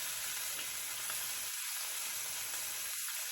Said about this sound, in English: Get the next side seared. See how hot it is? Got that good smoke coming off of them.